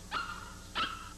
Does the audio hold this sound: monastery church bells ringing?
no